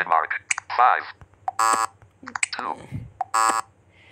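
A harsh electronic wrong-answer buzzer from the accessible math game MathFun sounds twice, each a short flat blare, with a person talking in between.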